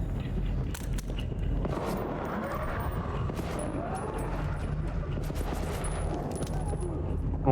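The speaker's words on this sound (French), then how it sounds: "on lance des grenades dessus" Grenades launched in the video game Vampire: The Masquerade Bloodlines 2, a dense run of sharp blasts and crackling bursts over a steady rumble, fairly loud throughout.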